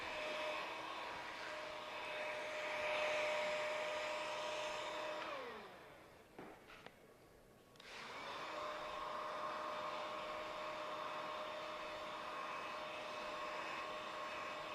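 Heat gun blowing hot air onto rear window tint film, a steady loud whine that dips and cuts out briefly midway before resuming at full strength, with no talking.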